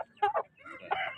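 A fighting cock at a Punganur rooster market gives short, clucking crow-like calls in two quick bursts, close and fairly faint against the market background.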